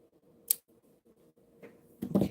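Scissors snip the ends of craft loops in a quiet room, one sharp cut near the start, then faint clicks and a louder rustling snip at the end, with no talking.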